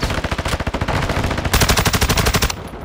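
Rapid automatic gunfire in Call of Duty, bursts of fast, evenly spaced shots that grow louder and denser midway, then cut off abruptly, with no talking over them.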